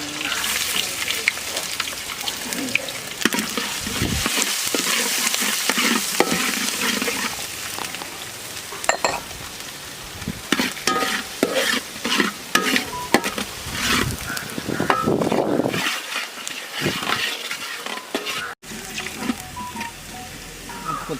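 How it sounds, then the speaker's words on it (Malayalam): Chopped ginger stirred and frying in hot oil for a Kerala-style crab roast, a steady sizzle with scraping spoon strokes against the pan, continuous and close, with occasional faint clatter. "ഇഞ്ചി, ഇത് രണ്ടും ഇട്ട് നല്ലോണം പച്ചമണം പോകുന്നവരെ ഇളക്കി കൊടുക്കുക"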